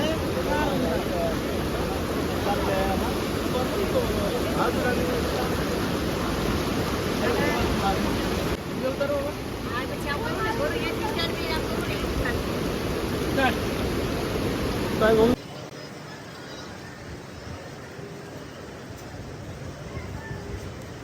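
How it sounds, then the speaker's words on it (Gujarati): Clear water of the Bal Ganga river rushes steadily, a dense continuous wash of flowing water close by, with the sound thinning and quieting partway through. "અહીંયા બાલગંગા પૂકી ગયા છે તમને બતાવો બાલગંગા તમે જોઈ રહ્યા છો"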